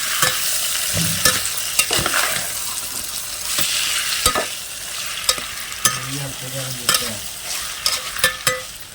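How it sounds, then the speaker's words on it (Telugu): Broad bean pieces with onion and curry leaves stir-fry in a pan, a steady sizzle punctuated by repeated sharp scrapes and taps of the spatula. "చిక్కుడుకాయలు అయితే ఫ్రై అయినాయండి"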